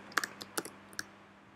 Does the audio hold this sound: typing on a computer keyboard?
yes